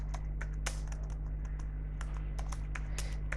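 Quick, irregular keystrokes tapped out on a computer keyboard, close and fairly crisp over a steady low electrical hum, with no one speaking.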